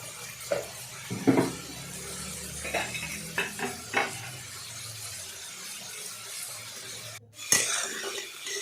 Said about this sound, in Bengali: দিয়ে তারপর কপিটাকে ভালো করে নাড়াচাড়া করলাম।